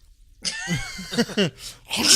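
During a tabletop Dungeons & Dragons session, a player's voice acts out a character's sneeze: a short, breathy build-up followed by a couple of sharp voiced bursts, close and fairly loud.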